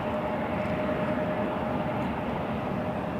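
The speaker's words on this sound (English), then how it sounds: "That'll be a Republic Airways, Embraer 175." A Republic Airways Embraer 175 jet flying United Express out of Toronto Pearson, bound for Newark, gives a steady, dense engine roar that holds even and loud the whole time, with no talking over it.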